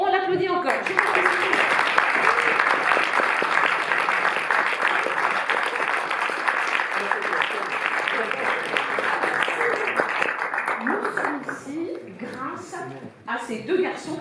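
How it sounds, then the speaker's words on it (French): Cinema audience at a film presentation gives long, sustained applause, dense and loud for most of its length before fading, with voices talking near the close. "Et on l'applaudit encore."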